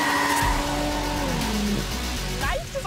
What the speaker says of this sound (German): Matthias scheucht das knapp 2 Tonnen schwere Allrad-Cabrio gnadenlos über den Kurs.